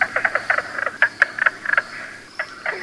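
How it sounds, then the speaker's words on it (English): A mink frog calls in quick series of sharp, knocking notes, pausing briefly before another burst; fairly close and alone against a quiet background in Michigan's Upper Peninsula. "Right behind him, we might run into a mink frog"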